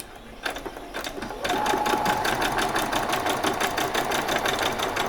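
A sewing machine runs a short back stitch along a seam of a Christmas party dress: after a couple of brief taps the needle settles into a fast, even, close-up rattle that continues steadily.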